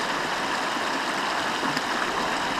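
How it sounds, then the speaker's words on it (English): Creek water running down an eroded trail in Golden Gate Canyon State Park, a loud, steady rushing and burbling flow close by with no voices. "But that's like a creek."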